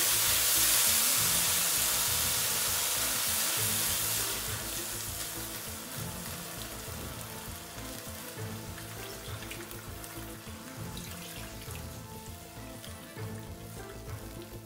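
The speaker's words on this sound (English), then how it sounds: "I'm going to put in some water in it, and we will allow this to cook." Water poured into a hot pot while cooking pili pili rice, giving a loud hissing sizzle at first that settles into a steady lower bubbling simmer.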